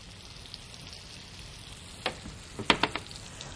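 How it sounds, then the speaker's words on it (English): Diced bell peppers sauté in a pan with a quiet steady sizzle, broken near the end by a few sharp clinks and scrapes of a utensil against the pan. "I just want to saute those until they get a little bit soft"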